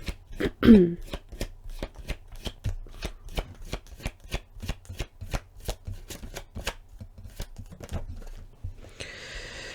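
A tarot deck shuffled by hand, a rapid run of crisp card riffles and taps in a quiet room, with a brief throat-clear near the start.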